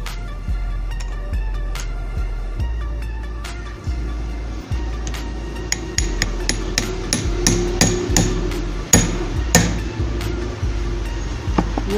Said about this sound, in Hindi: यहाँ पे वाइस पे रख के हमने इसको नीचे ठोक देना है।